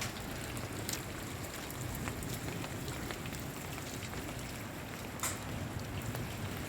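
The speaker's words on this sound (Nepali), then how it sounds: "डरलाग्दो पानी परेको छ हेर्नुहोस् असिना" Heavy rain pours steadily in a storm in Sikkim, a dense, even hiss of drops on surfaces with a few sharper hits from hail, faint and without speech.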